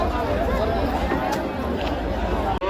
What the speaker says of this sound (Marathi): भक्तगणांची क्राऊड बघा हळूहळू आता गर्दी पण फुल वाढणार